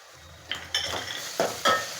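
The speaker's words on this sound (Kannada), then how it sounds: "ಇದು ಚೆನ್ನಾಗಿ ಫ್ರೈ ಆಗಬೇಕು ಅದು ವಾಸನೆ ಹಸಿ ವಾಸನೆ ಹೋಗೋವರೆಗೂ ಫ್ರೈ ಆಗಬೇಕು" Ginger-garlic-green chilli paste sizzles with onions in a pan for crab masala, the steady frying hiss punctuated by four distinct spoon scrapes as it is stirred.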